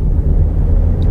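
A 2008 Volvo D5 diesel car wrongly fuelled with petrol runs heavily at low revs, giving a steady, loud low rumble from inside the cabin with no talk.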